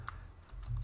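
Computer keyboard keys tapped while entering router configuration commands, a short run of light clicks close by with a low steady hum underneath.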